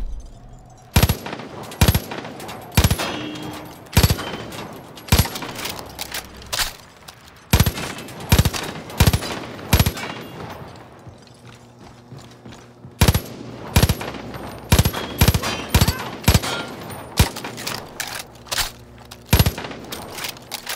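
An elite weapon in Far Cry New Dawn fires in bursts, clusters of rapid, loud, close shots separated by short pauses that repeat throughout, with faint clinks between volleys and no voices.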